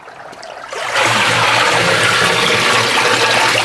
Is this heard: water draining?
yes